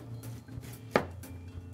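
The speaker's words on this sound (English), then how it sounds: "And you just chop it like you would a normal slaw." Knife chopping and finely shaving green cabbage for slaw on a cutting board, soft scattered cuts with one sharper chop near the middle, quiet and close.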